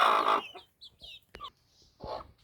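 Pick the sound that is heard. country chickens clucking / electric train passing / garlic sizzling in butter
country chickens clucking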